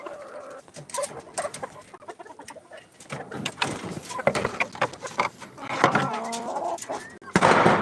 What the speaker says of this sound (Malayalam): ഇത് നമ്മളെ കരിങ്കോഴി